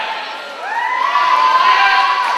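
Roller derby crowd cheering and whooping in an arena, a loud swelling wash of voices with high shouts rising over it, sustained and close across the whole stretch.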